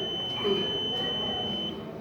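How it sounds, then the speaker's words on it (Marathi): A VVPAT voting machine beeps after the printed ballot slip drops during a mock poll, one steady electronic tone held for nearly two seconds before cutting off, over quiet room background. "चिठ्ठी पडल्यानंतर असा बीप येतो."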